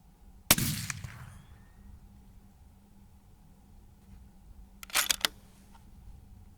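Rifle fired during a tall-target scope test outdoors: one loud sharp shot near the start, then a cluster of two or three quick cracks later, with quiet between.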